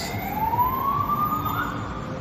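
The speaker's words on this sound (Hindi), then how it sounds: "अभी इधर से एक फायर ब्रिगेड का सिग्नल आया है इन लोगों को" Fire engine siren wailing at a steady rising pitch from some distance in a street, moderately loud over traffic rumble, with no talking.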